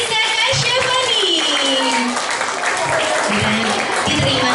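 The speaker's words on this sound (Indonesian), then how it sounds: "Berikan tepuk tangannya kepada Anda atau Faris Faiza Kasyafani." Sustained applause from an audience at a children's award night during a Ramadan celebration at a mosque, dense and steady clapping with a voice speaking over it.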